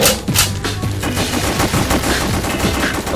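Rapid gunfire from House of the Dead: Overkill, a dense, continuous burst of loud shots rattling over heavy game music and effects, with no voices.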